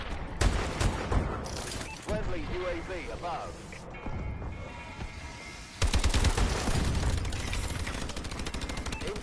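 XMG gunfire in the video game Advanced Warfare crackles in rapid bursts among explosions and other game effects, with players talking over the shooting throughout.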